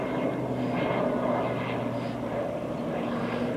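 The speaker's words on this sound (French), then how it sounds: "J'essaie de filmer l'avion," An airplane on a parachute-drop training flight drones steadily overhead, a continuous engine hum holding even loudness throughout with no voices.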